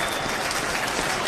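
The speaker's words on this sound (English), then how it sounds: "polite round of applause from the Philadelphia fans here" Dense, steady applause from Philadelphia fans filling a football stadium during an NFL playoff game against the Packers, a broad wash of clapping with crowd murmur throughout.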